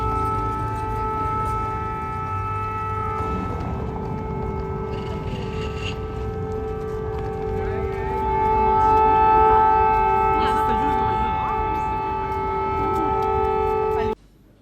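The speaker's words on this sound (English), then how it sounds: "you can hear sirens." Air raid sirens in Ukraine wail as a steady sustained tone that swells slightly midway, with faint background sounds underneath.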